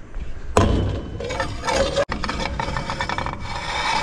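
A block of skate wax is rubbed back and forth along a rusty metal handrail at a skatepark, making a close, gritty, scraping rasp in repeated strokes, with a sharp knock near the start and a brief break midway.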